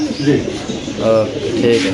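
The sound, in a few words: pigeons cooing at a pigeon farm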